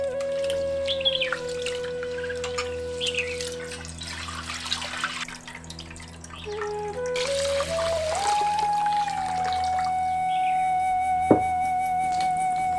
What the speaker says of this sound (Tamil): அரிசியும் பருப்பும் வேக வைக்கிறதுக்காக கொஞ்சம் தண்ணியை பானையில் உலக்காய வச்சிருவோம்